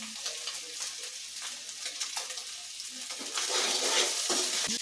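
Egg usli sizzling and frying in a pan with coriander leaves, a steady hiss with scraping stir strokes that swells louder near the end; no one talks.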